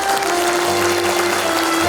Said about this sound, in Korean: 다 함께 힘차고 따뜻한 박수 한번 쳐볼까요?